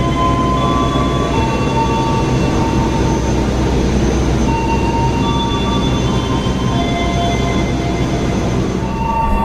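Papandayan passenger train pulling out of the station, a loud steady rumble of wheels and carriages with faint metallic squeals drifting above, continuous and close throughout.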